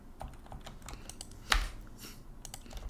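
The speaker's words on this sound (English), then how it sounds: "Let me try typing." Keystrokes on a computer keyboard while testing a web dashboard form, with one sharp, louder key press near the middle standing out against faint, scattered taps and low room hum.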